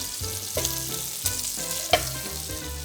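Pork fat renders in a frying pan for carbonara, giving a steady, close crackling sizzle with a few sharper pops, heard alone without talk.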